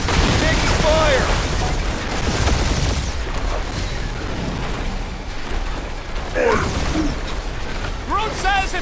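Enemy gunfire in the Guardians of the Galaxy video game, a dense continuous barrage of mechanical cracks, clanks and booms mixed with game effects and bursts of character voices throughout.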